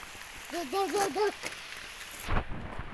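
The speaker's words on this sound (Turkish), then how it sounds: "Şıkır şıkır yağmur yağıyor." Steady rain patters and hisses throughout, with a brief wavering vocal sound early on and a low rumble near the end.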